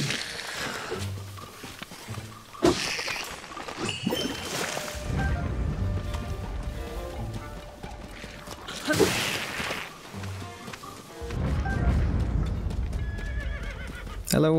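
A horse in Zelda: Tears of the Kingdom gives several loud, shrill whinnies, mixed with clip-clop hoofbeats and game effects, while someone talks over parts of it.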